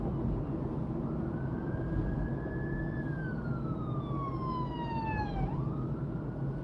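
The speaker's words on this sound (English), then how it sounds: "Oh, ambulances, blues and twos." Ambulance siren on a British road, a single wailing tone rising and falling as the vehicle passes, moderately distant over steady car interior road noise.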